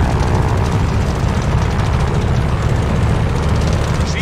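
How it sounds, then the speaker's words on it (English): A WWII fighter plane's piston engine revs up in Call of Duty Vanguard, a loud, steady, close roar holding at high power throughout without pause. "do an engine run-up. Make sure she doesn't blow out."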